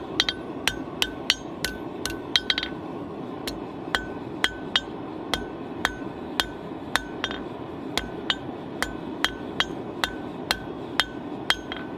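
Hammer blows forging a one-sided taper on a piece of hot metal, meant for a miniature forged fence, ring out as sharp, evenly spaced metallic strikes of steady rhythm, loud and close over a low background rumble.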